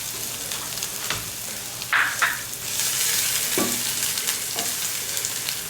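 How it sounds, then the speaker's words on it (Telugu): Onion, green chili, garlic and ginger frying in a pan, a dense steady sizzle with a few scraping stirs and clinks on top, close and continuous with no talk. "ఫ్రెండ్స్, మనం ఇప్పుడు onion, green chilli, garlic, ginger, onion అవి అన్నిటిని గోల్డెన్ కలర్ వచ్చే వరకు వేయించుకోవాలి."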